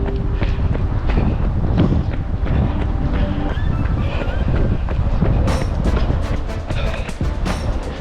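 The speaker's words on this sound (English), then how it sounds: "A little bit too windy for my liking. It's kind of buffeting." Strong wind buffets the microphone in a constant loud, low rumble with gusty surges, and faint rattling noises scattered through it, during a run along the River Thames.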